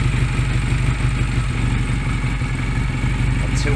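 A Honda Rebel 125 motorcycle idles during carburetor adjustment, its small engine chugging in a loud, steady, even rhythm close by with a faint metallic clatter.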